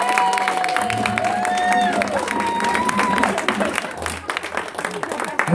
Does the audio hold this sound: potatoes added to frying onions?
no